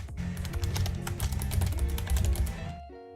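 Someone types code on a computer keyboard while writing a Unity game script: quick, close, continuous keystroke clicks in an uneven rhythm that stop abruptly near the end.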